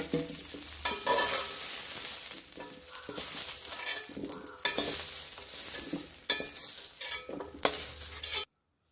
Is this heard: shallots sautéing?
yes